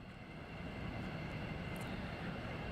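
Military jet aircraft at RAF Lakenheath airbase during a large launch, heard as a steady, distant broadband engine roar that holds evenly throughout with no talking.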